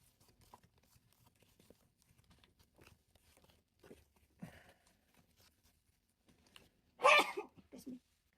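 After some quiet rustling and small clicks, a single sharp sneeze bursts out, short and close.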